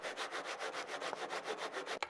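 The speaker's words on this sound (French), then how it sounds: "tu le scies avec une scie fine" A fine hand saw cutting a wooden door frame for parquet flooring, with rapid, even back-and-forth strokes close by, ending in a sharp knock.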